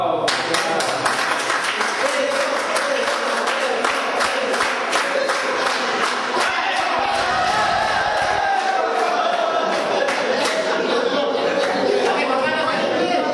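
Sustained applause from a gathered crowd at a 1985 graduating class school reunion, dense rapid clapping with cheers and chatter mixed in, loud and continuous, with voices talking over it.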